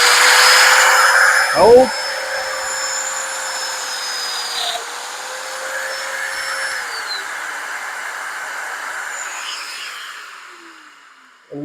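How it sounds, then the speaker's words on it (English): Festool Domino DF 700 EQ-Plus joining machine plunging into a wooden workpiece, a steady close whine that holds for about ten seconds with a brief thump near the start, then winds down; a short spoken word comes early. "Switch the machine on."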